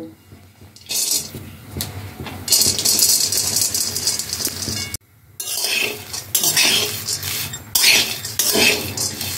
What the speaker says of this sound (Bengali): খুব ভালো করে নাড়াচাড়া দিয়ে গমগুলোকে ভালো করে ভেজে নেব।